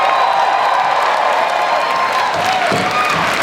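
A convention crowd at San Diego Comic-Con 2015 claps and cheers for the Arrow panel, a dense, loud, continuous roar of applause with a few whoops rising near the end.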